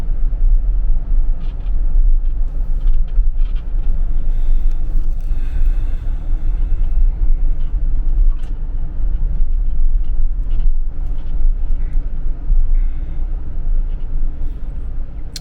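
A car driving the roads of Lookout Mountain near St. Elmo and Rock City, its steady low engine and road rumble running loud and continuous throughout with no talk.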